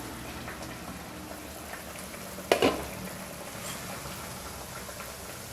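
Small-onion theeyal bubbling and simmering in a pan as coconut paste is added, a steady close sizzle and boil with one sharp clunk of a spoon or vessel partway through, no voices.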